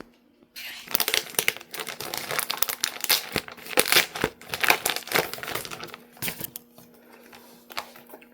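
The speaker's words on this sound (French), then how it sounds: "Mais je vais vous le déballer, on va regarder." A thin, flat mailed package is torn and unwrapped close up, giving a run of crinkling and rustling plastic or paper with short irregular bursts and brief pauses between them.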